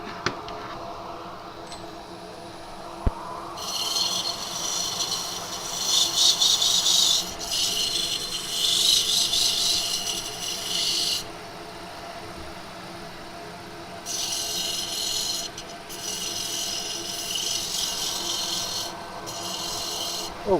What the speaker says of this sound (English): Start with a little bit of 180 grit.